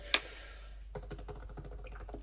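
Keys on the OnePlus Pad 3 keyboard cover are tapped in a quick, steady run of light plastic clicks, close up, after one sharper knock at the start; no one speaks.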